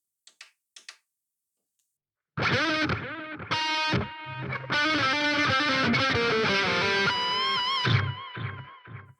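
Electric guitar recorded direct through a Vox ToneLab EX set to tape echo delay: a few faint plucks, then loud distorted chords and riffs ring out with echoing repeats trailing behind them.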